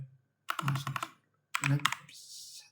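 Keys clatter on a computer keyboard in two short bursts of quick taps, close and moderately loud, with a pause between them.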